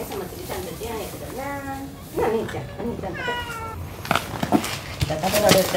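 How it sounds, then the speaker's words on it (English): Cats at a shrine give several clear, rising meows close by, with a voice talking quietly and rustling movement toward the end. "These cats are lucky to have her."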